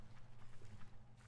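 A horse in the Minetest video game, set upon by a mob of slimes, gives off a steady run of soft, quick hoof clops, fairly faint and with no voice over it.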